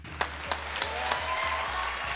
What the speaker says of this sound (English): Please give a round of applause to yourselves for taking time out to be here today